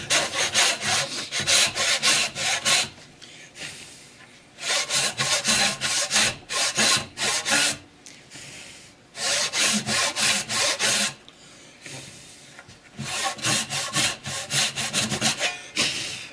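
Hand saw cutting a wooden tenon: close, steady back-and-forth rasping strokes in several bursts, with brief pauses between runs of sawing.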